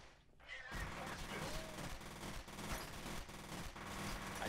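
Dense, continuous gunfire rattles through a F.E.A.R. firefight, sustained automatic bursts packed closely together and loud throughout after a brief quieter opening.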